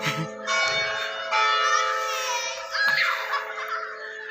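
The church bell of the Evangelische Schlosskirche rings out with steady, sustained metallic tones, heard nearby and moderately loud, while children's voices and brief chatter briefly rise beneath it.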